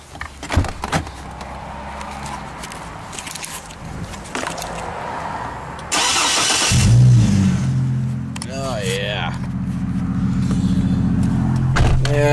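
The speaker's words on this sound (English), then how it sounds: "Let's crank this baby up." A manual truck engine cranks and catches partway through, then settles into a steady, loud idle with a few revs, preceded by door and cabin handling sounds and some talking.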